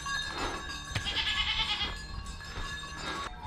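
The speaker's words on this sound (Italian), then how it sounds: "Allora, non erano pecore, erano capre" A goat herd with its dogs moves along a mountain trail above Amalfi, and several goats bleat from close to mid distance over an outdoor hiss.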